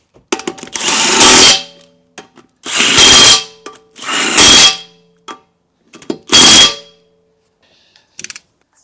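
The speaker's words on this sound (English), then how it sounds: "I can put the wheel back on" Power tool whirring in four loud bursts with short gaps while refitting the wheel on a Nissan e-NV200 van, followed by faint clicks and quiet.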